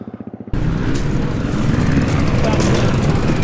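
Motocross bikes ride on a muddy track, their engines a loud continuous roar after a brief pulsing start, with a voice speaking close by over the noise.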